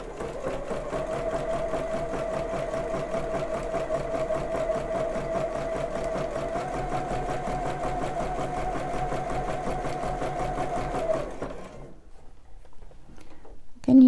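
A sewing machine runs steadily and close, stitching elastic onto a bra with an even, rapid needle rhythm for about eleven seconds before stopping, followed by a brief quieter stretch.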